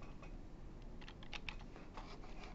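Keystrokes on a computer keyboard entering a value into a software properties field, a short run of light, close clicks over a steady background hum, with no voices.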